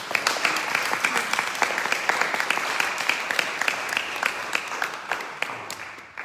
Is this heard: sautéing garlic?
no